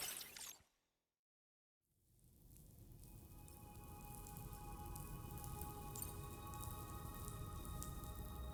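Rain falls in the video game Death Stranding 2, a dense, steady hiss of drops that cuts out briefly and then swells back in. It stays fairly soft and even, with scattered patters and no voices.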